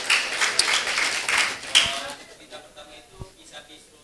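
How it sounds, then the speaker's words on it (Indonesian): An audience at a guest lecture claps in a brisk, dense burst that fades over a couple of seconds, leaving scattered taps and a voice speaking. "Oke, boleh tepuk tangannya."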